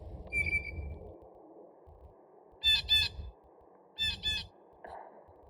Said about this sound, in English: Oh my gosh, is that another blue jay call?